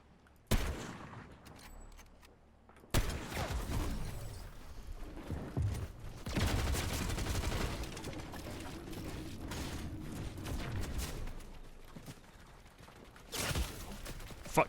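Gunfire in the video game Fortnite, with a mechanical clatter of bursts and clicks that starts abruptly, rises into dense loud firing through the middle and thins out toward the end; no talk.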